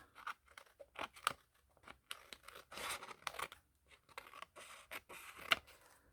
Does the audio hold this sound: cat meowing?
no